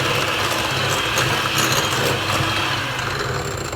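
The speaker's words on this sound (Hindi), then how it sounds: "मैं लो स्पीड से बीटर पे बीट करूँगी" Electric hand beater running at low speed, mixing a tablespoon of flour into whipped eggs for a sponge cake; a steady, close whirring drone with slight ratcheting texture, continuous throughout with no talk.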